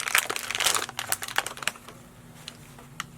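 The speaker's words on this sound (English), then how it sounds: "you want to take the device out of the aluminum foiled package. By peeling the package," Aluminum foil packaging around a saliva drug test device is peeled open, producing close crinkling and crackling bursts that thin out into a few sparse clicks.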